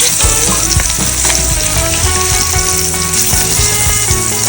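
Loud, close sizzling of surmai fish frying in a pan, a dense steady crackle with soft music playing underneath throughout.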